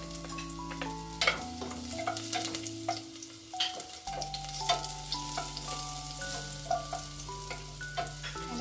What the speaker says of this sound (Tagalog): maglalagay tayo ng konting cooking oil. And then, igigisa natin yung ating garlic.